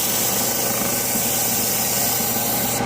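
A wooden beating stick spins on a lathe, making a constant loud whirring and rubbing drone with no breaks across the whole span.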